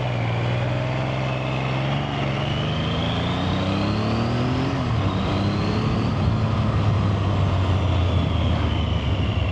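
A Triumph Thunderbird motorcycle's triple-cylinder engine idles nearby, a steady low purr with smooth harmonic hum that rises slightly in pitch midway before settling, continuous and fairly loud with no talking.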